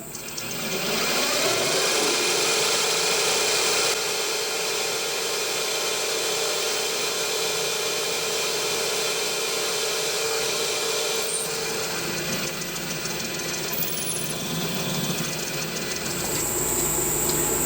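Continuous machining on a mill as a 1/4 inch clearance hole is drilled into a part for a Titan .60 glow plug model engine, a steady close grinding, rubbing whir holding at even loudness throughout with no talk.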